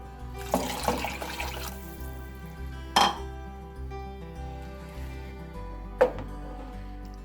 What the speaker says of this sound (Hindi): अब इसमें पानी डाल देंगे। हम तकरीबन 3 लीटर पानी डालेंगे।